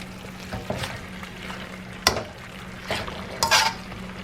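Shallots and extra pepper sizzle in a pan for a Thai beef curry, a loud close fry with a few sharp utensil scrapes and clinks against the pan.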